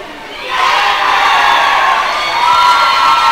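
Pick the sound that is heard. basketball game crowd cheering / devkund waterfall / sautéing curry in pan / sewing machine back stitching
basketball game crowd cheering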